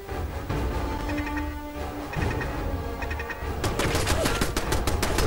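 Turret gunfire in the Fallout 4 video game, rapid automatic bursts that start sparse and grow denser and louder toward the end, with a buzzing layer underneath and no talking.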